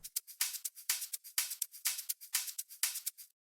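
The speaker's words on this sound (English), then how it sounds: "an open hi-hat to add more energy to the second part of the drop" Open hi-hat from Ableton stock plugins in a melodic house drop, bright airy hits repeating in a steady offbeat pattern, close and alone with no other instruments.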